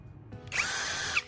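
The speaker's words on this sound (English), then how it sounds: "Using a drill with a small bit, I'm making a clean hole in the can's base." A power drill with a small bit bores a hole through the base of an aluminum can, starting with a faint tap, then a steady high-pitched whine of about three quarters of a second, close and loud, with no talking.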